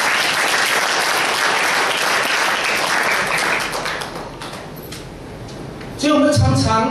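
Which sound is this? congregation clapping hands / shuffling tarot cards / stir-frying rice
congregation clapping hands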